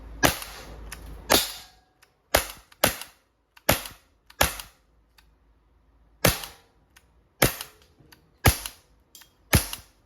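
An Umarex Glock 17 Gen 3 dual-ammo CO2 airgun fires around a dozen sharp, loud cracks at uneven intervals, each snapping off quickly into quiet.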